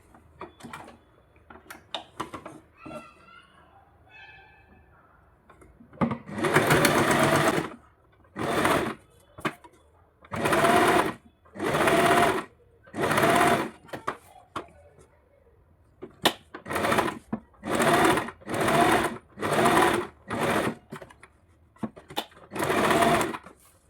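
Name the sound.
sewing machine stitching blouse cloth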